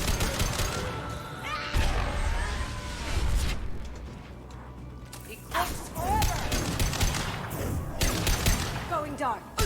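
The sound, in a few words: gunfire from the 'fun gun' in video game Mass Effect 2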